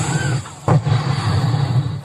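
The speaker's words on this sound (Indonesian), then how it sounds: "Petasan sing meledak menjelang jam 12 tengah penting" Firecrackers burst before midnight in the New Year celebration crowd at Monas, two sharp bangs standing out over a loud, continuous low crowd rumble.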